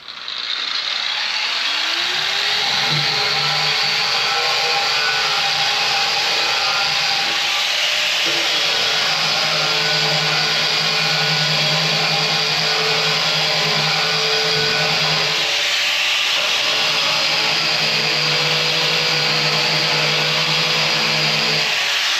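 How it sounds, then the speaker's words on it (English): A Harbor Freight surface grinder or surfacer machining wood hums loudly and steadily for the whole stretch, with a rising spin-up at the start and a brief dip in load midway, close and with no talk. "It's either a surface grinder or a surfacer or something."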